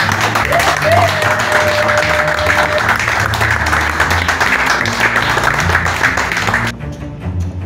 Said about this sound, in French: Applaudissez encore pour le président Brice Clotaire.